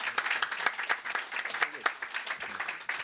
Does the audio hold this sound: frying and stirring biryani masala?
no